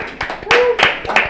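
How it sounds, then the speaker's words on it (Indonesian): A brief burst of hand clapping from a studio audience and crew at the end of a casual podcast, a few sharp claps mixed with a voice. "Tepuk tangan."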